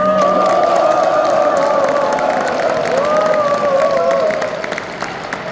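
A lecture audience applauds and cheers loudly and continuously, a dense wash of clapping with raised voices and whoops mixed throughout, easing off slightly at the end.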